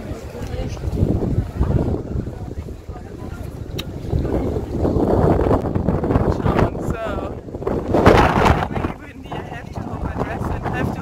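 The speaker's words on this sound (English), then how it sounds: "It's very windy today, as you can see." Strong gusting wind in Athens buffets the microphone, roaring and rumbling in waves throughout, with a voice speaking over it.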